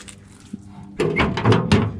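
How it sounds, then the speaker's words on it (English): The door of a 1965 Chevrolet C10 shortbed utility-body truck opens with a muted clunk and then a rattling metallic latch and hinge sequence, close by and fairly loud after a quiet start. "doors open really well."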